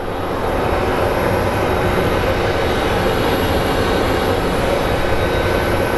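A jet airliner's engines roar steadily at Phoenix Sky Harbor airport, a loud, continuous broadband rumble with a high whine on top, sustained without a break and heard alone.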